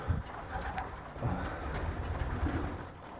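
Soft, low pigeon coos repeat a few times close by, with faint background rustle and no talking.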